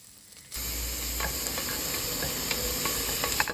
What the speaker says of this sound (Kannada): ಎರಡು ಟೇಬಲ್ ಸ್ಪೂನು ಎಣ್ಣೆ ಹಾಕಿ ಅದಕ್ಕೆ 1 ಟೇಬಲ್ ಸ್ಪೂನಷ್ಟು ಸಾಸಿವೆ ಹಾಕಿ, ನಂತರ ಈರುಳ್ಳಿಯನ್ನು ಸೇರಿಸ್ಕೊಳ್ಳಿ.